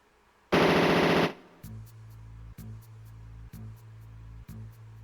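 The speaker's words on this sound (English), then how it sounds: "hit it with the Gatling" A Gatling gun firing in the MS-DOS game Power Dolls: a loud burst of rapid retro digital fire, followed by several evenly spaced low buzzing pulses with sharp clicks. No one speaks.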